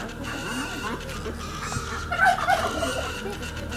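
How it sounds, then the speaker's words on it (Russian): A turkey gobbles outside a zoo in Hurghada, Egypt, with clucking bird calls rising midway, loudest in a short burst, while people talk nearby. "А вот индик настоящий, глянь, какой."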